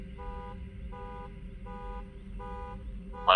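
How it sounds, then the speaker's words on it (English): A repeating electronic car alarm in the video game Fortnite, steady two-tone pulses cycling about once a second under a rumbling game background, ending in a sudden louder burst. "Is that car alarm in the game, or am I just..."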